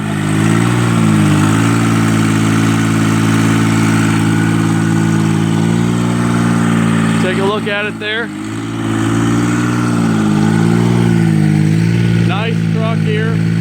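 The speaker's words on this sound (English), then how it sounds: "So I'm gonna get right up here and show you the pony motor operation." Pony motor on a forestry bucket truck running steadily at idle, a loud droning engine with slight pitch wavering throughout, while someone talks briefly over it.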